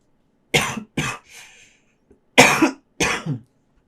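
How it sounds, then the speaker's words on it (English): A woman with a bad cough of several days coughs in two close bursts of two, each harsh and loud, with a soft throat-clearing rasp between them. "I've had a really horrendous cough for a few days"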